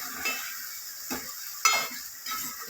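A tomato curry with broad beans and flat beans simmering in oil in a pan, soft bubbling and sizzling with a few utensil scrapes and clinks, close and fairly quiet, no talking.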